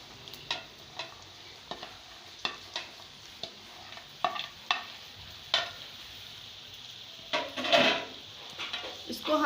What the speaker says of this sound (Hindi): इसको हमने तेज़ आंच पर भूनना है कि भिंडी की जो चिकनाहट है वो ख़त्म हो जाए